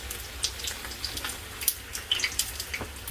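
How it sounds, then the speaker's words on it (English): Water trickles and splashes into a pan of browning catfish for curry, with small irregular droplet ticks and a soft continuous pour, fairly quiet and close. "We can just add a little water at the bottom here"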